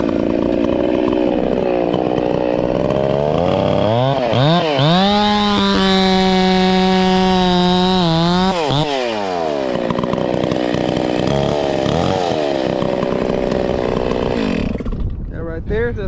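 A chainsaw cuts a tree branch while pruning, revving up to a loud, sustained high whine that holds for several seconds and then winds down, with the engine idling and surging afterward.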